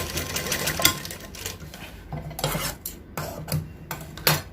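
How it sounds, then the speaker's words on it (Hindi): Sewing machine stitching the collar of a kurti, running in several short rhythmic bursts of needle clatter separated by brief pauses, close and fairly loud with no voices. "यहाँ पर भी हम 1 पॉइंट की छोड़ कर सिलाई करेंगे"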